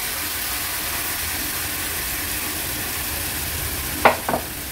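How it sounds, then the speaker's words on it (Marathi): Turmeric and masala sauté in oil over a high gas flame, a steady close sizzle and fry that runs throughout, with a couple of brief stirring clinks near the end. "हळद आणि मसाला तेलावर छान परतून घ्यायचा आहे।"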